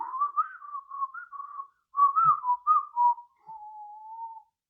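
A person whistles a wavering, tuneful melody in several phrases with short breaks between them, close and clear with no other sounds.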